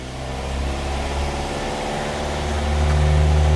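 A Hot Rod Yugo's engine runs in fourth gear, a steady low droning hum with a mechanical rumble that swells slightly louder toward the end, close by and without voices.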